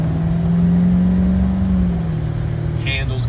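A C7 Corvette Stingray Z51 running in sport or track mode with its stock exhaust open, giving a continuous low, throaty engine drone that stays fairly steady and eases off slightly toward the end.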